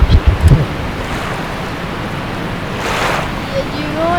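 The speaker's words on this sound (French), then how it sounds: "Il y a du vent et le bateau n'est pas vraiment stable." Video game boat rocking on rough, windy water, with broadband wind and surf noise running steadily throughout, a few brief thumps at the start and a faint whistling tone near the end.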